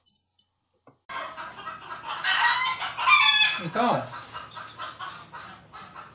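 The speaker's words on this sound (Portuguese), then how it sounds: "deixa as galinhas sossegar" Chickens cluck and a rooster crows nearby, a busy burst of squawks and clucks with one rising-and-falling crow, and someone says a single word just before.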